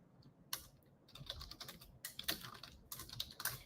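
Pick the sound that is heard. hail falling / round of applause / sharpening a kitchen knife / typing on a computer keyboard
typing on a computer keyboard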